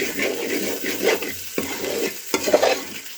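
Chili masala frying in a pan as it is stirred, a close sizzle broken by sharp scraping strokes of a spoon against the pan, loud and steady with no voices.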